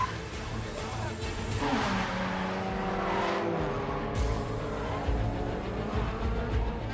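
Cars driving and racing in a movie scene, a steady roaring engine drone with revving and tire noise filling the whole stretch, loud and continuous.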